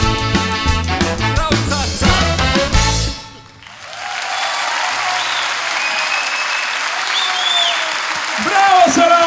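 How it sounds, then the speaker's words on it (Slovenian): Loud, sustained audience applause follows a live folk song performance, beginning as the final music cuts off and swelling into a dense wash of clapping with crowd noise. "Poglejte, kak aplavz!"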